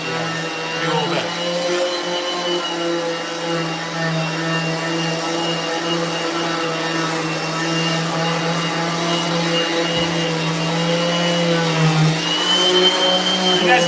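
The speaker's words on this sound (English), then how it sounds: "while I'm sanding these last two boards." A power sander grinds steadily against wooden skateboard decks, close and loud, with a constant high motor whine that barely changes throughout.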